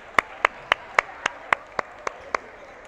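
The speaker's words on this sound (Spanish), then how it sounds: "Un aplauso, un increíble aplauso a este jugador Negrón." At a basketball game, one person claps for player Negrón: about ten crisp, evenly spaced claps in quick rhythm, close and distinct, with no crowd or voices.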